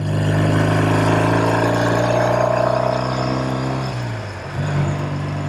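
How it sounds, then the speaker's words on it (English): An original 1969 Triumph Daytona 500 motorcycle engine runs loud and close with a steady droning hum, then dips in pitch and volume before picking back up, with no talking. "I love riding these old motorcycles."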